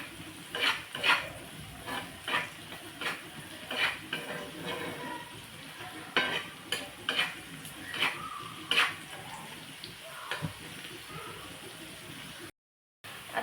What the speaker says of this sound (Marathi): आता आपण त्यात जे आपण लसूण आणि आल्याची पेस्ट केली होती ती टाकून द्यायची आहे आणि परत एकदा परतून घ्यायचं आहे